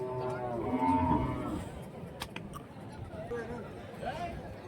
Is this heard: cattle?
yes